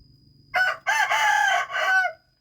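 A rooster crows once, loud and close, a long multi-part call rising and breaking over about a second and a half, with faint background noise before it among free-ranging hens.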